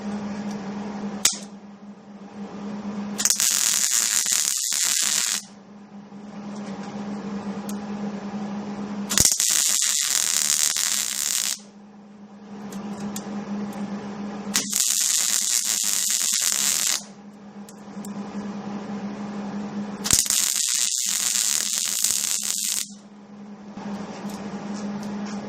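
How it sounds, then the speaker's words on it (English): Welding on a DIY adjustable-height table leg, likely MIG: four loud bursts of crackling hiss lasting two to three seconds each, separated by pauses, over a steady low machine hum. "I'm just going to weld that down there"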